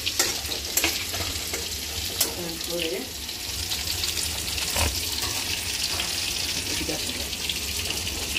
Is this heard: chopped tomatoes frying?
yes